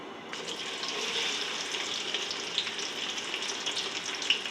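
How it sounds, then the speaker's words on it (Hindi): Onion with cinnamon, green cardamom and black cardamom frying in hot ghee, a steady close sizzle with a soft crackle running throughout, no talking. "घी गरम है और सबसे पहले मैं डालूँगी एक दालचीनी, छोटी इलायची और बड़ी इलायची, और साथ ही डाल दूँगी प्याज।"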